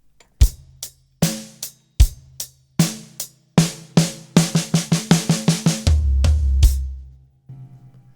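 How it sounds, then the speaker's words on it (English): A drum kit plays a fill: spaced punchy hits, then a quicker run of strokes, settling into a hi-hat and bass drum note, close and clear. "I'm just going to play one hi-hat and bass drum after the fill."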